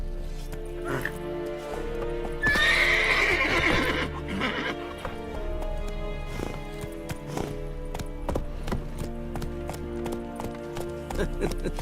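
A horse in The Witcher 3 game galloping with rhythmic hoof clip-clops, a loud whinny partway through, and steady game music and ambience underneath.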